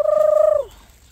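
Wild chicken named Freddie in a park giving one steady, loud, close call that is held for about half a second and then drops off quickly into quiet outdoor background.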